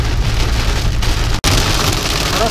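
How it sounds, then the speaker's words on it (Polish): Heavy rain mixed with hail pours down steadily on a vehicle during a road trip in Sweden, a dense loud hiss of impacts with a brief dropout partway through. "Właśnie pada deszcz i trochę gradem posypuje."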